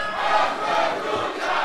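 Packed lucha libre arena audience at a Mexican wrestling show chanting together, a steady, loud roar of massed voices with slight rhythmic swells throughout.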